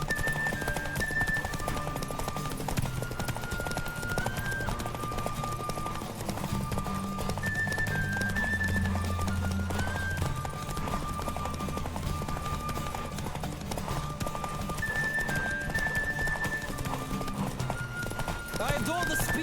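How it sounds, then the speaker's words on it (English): A horse gallops in The Witcher 3 video game, a rapid, steady clip-clop of hooves close by, running continuously beneath game music, with occasional neighs and characters speaking over the hoofbeats. "Don't spare the horse!"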